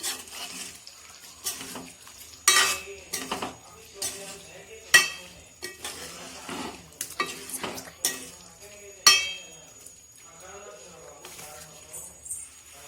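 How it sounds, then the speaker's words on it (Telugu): Chicken curry is stirred in a pan with irregular scraping and clinking strokes over a soft sizzle, some strokes sharp and loud, close up, with light water sounds in between. "ఒకసారి కలుపుకుందాం మొత్తం."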